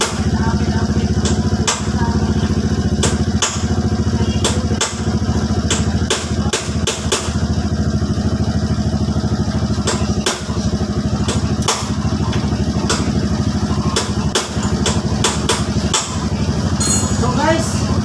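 A Suzuki Burgman scooter engine with an RPM fault idles and revs steadily throughout, loud and close, with brief sharp clanks and faint voices underneath.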